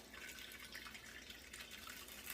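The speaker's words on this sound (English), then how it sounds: "Get the water dumped out so everything's wet." Water being poured out of a Lot-o rock tumbler barrel after the polish stage, a steady soft trickling and dripping with a faint, continuous wash of liquid throughout.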